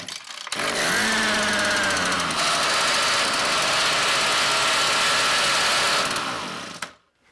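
A Husqvarna 326LS string trimmer engine, just choked and started, runs loud and close at a steady high buzzing rev for about six seconds, then winds down and cuts off.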